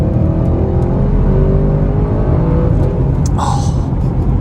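A 2021 Audi RS6 Avant in dynamic mode accelerates hard, its engine note loud and steady from inside the cabin, with a faint whistle rising briefly near the end.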